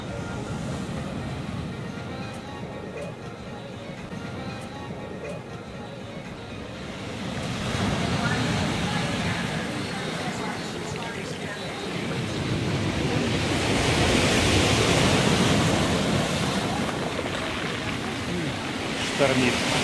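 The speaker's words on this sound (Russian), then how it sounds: "Штормит. Наше ласковое Черное море." Stormy Black Sea surf at Alushta rolls and crashes in steady loud washes, swelling midway, with heavy wind buffeting the microphone throughout.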